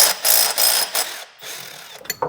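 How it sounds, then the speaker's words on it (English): A ratchet works loose a 17 mm cam bolt on a Mitsubishi Eclipse GSX engine, giving loud, close rasping clicks in several strokes with short pauses, then a few lighter clacks at the end. "Now we can remove the 17 millimeter cam bolt."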